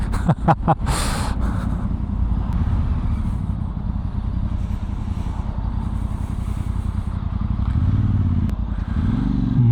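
A VOGE DS800X Rally adventure motorcycle rides along, its engine droning steadily in the low range. A few sharp clattering knocks come at the start, and the engine swells slightly near the end, with no talk.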